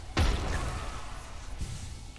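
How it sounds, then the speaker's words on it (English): A sudden loud thudding blast in the Hollow Knight video game, with a heavy low boom followed by a softer rumble and a second lighter impact. "I definitely nearly got picked up by that explosion"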